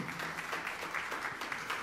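A church congregation claps in praise during a sermon, a faint, steady patter of many hands with regular pulses, heard alone without talk.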